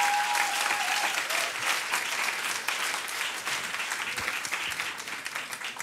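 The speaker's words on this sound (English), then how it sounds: "One more round of applause now that we've got them all up here." Steady, sustained applause from an audience at an evening NASA event for the Curiosity rover's Mars mission, a dense wash of clapping that holds at an even level throughout.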